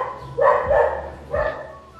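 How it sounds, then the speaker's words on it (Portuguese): Several dogs bark in two short bursts, a couple of sharp, fairly close barks followed by a second flurry a moment later, with no talking over them. "Os cachorros vão latir todos agora."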